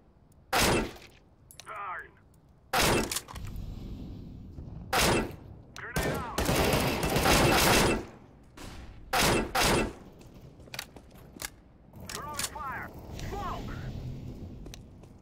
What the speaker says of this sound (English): this guy's shooting me at spawn